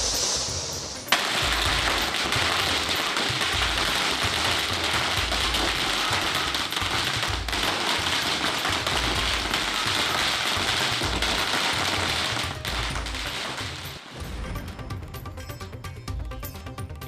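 Diwali firecrackers burst in Erode in the early morning as children celebrate, making a dense, continuous crackling barrage of rapid pops that fades slightly near the end.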